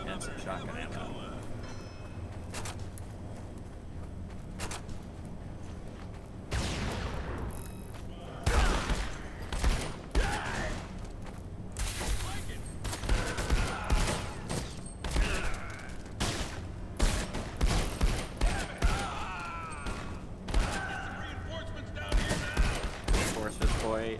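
Gunfire in the first-person shooter SiN Episodes: Emergence, heard as repeated loud bursts of shots and impacts over a mechanical game soundscape, with a person talking throughout.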